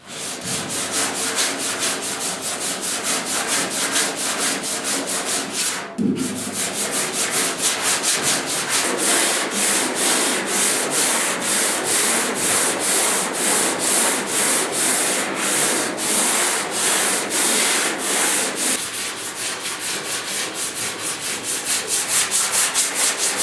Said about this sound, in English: on these curves here, it's really tough to sand this